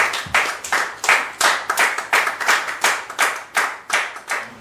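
A church congregation claps in steady unison to acclaim the Lord, the sharp, bright claps falling in an even, brisk rhythm with no talking over them.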